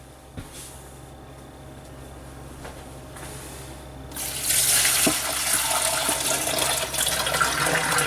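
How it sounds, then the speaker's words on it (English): Water from cooked potatoes is poured into a strainer, starting as quiet kitchen ambience and then becoming a loud, steady rushing splash for the last half. "My strainer here, we're just going to drain the potatoes."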